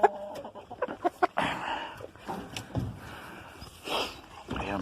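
Chickens and a rooster on a farm clucking and calling in a rapid burst of close, sharp calls early on, then softer scattered clucks and scratching movement.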